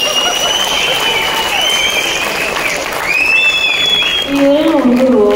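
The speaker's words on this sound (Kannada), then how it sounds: "ಒಂದು ಚಪ್ಪಾಳೆ ಹೊಡೆದಾನೆ." Audience applause fills the hall at an awards show on stage, a steady wash of clapping throughout while a voice and stage talk run over it near the end.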